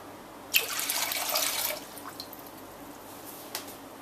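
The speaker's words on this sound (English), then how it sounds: "Start by putting in 3 cups of water" Three cups of water poured into a pot for a giant gelatin gummy candy, a steady splashing rush for about a second before tapering off, then a few faint drips, close and alone.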